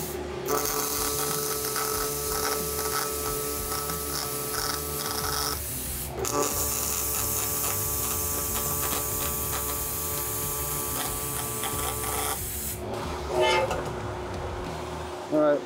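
Welding on a steel tube bender kit: a steady buzzing electric arc with a tonal hum, cut off briefly twice before restarting, close and loud, with some faint talk.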